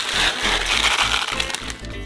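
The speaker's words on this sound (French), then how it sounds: "Nous mettons donc 1 kg de sarrasin dans une casserole." Dry buckwheat, about 1 kg, pours and rattles into a metal saucepan in a continuous crackling, hissing stream, close up, with no one speaking.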